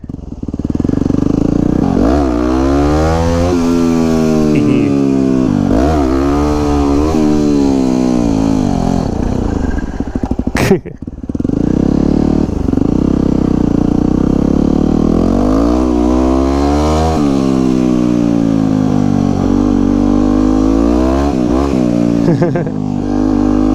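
Supermoto motorcycle practising wheelies on a dirt-edged track, engine revving hard and rising in pitch through repeated acceleration runs, very loud and close, with a brief sharp knock midway.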